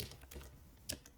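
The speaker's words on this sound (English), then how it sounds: "and I will type in" A few quiet key taps on a computer keyboard sound close and faint in a short burst.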